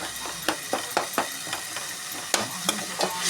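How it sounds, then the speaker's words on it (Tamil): A spoon stirs kuzhambu curry in a pan as the oil starts to separate. Soft frying sizzle runs underneath, broken by roughly ten sharp scraping strokes in a steady rhythm, heard up close with no talking. "நல்லா எண்ணெய் பிரியிற வரையும் கிண்டிக்கிட்டே இருங்க."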